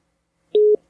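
A failed phone call gives one short busy-signal tone, a single clean beep with brief onset and cutoff clicks, heard alone against silence.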